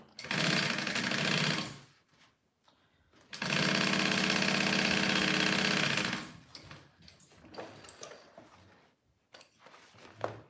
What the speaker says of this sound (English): I'm gonna sew this up here